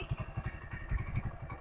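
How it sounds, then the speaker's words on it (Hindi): Motorcycle engine idling close by with a rhythmic low chug and light mechanical clatter as the bike is being parked, steady and alone. "अच्छा, तो बाइक खड़ी करके आ रहा हूँ।"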